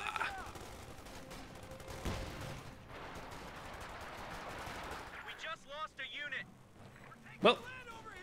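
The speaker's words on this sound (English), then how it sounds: "here comes the uh, storming paratroopers with their Thompson machine guns" Bursts of Thompson machine gun fire from storming paratroopers in Company of Heroes 2, crackling amid battle noise and overlapping commentary voices, with a sharp loud report near the end.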